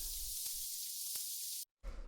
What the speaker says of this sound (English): So it's just a layer of some nice textured sounding final noise.